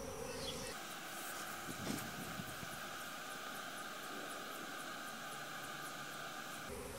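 Honeybees buzz steadily around a hive entrance, a continuous close droning hum with a few louder passes as individual bees fly near.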